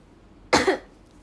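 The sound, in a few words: cough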